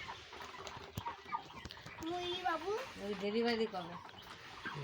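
A flock of chickens clucks close by in a run of rising and falling calls over a busy background, with a person talking nearby.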